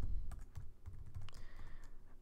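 Quick run of keystrokes on a computer keyboard, close and soft, with a low background hum and no talk.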